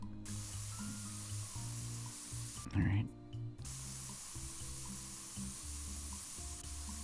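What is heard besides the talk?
spray painting with spray tool, from video game Spray Paint Simulator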